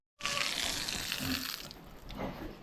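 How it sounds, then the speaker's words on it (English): Water turned back on, a sudden onset of running water gushing steadily from a tap or hose, fairly faint and continuous with slight splashing variations. "let's turn the water back on"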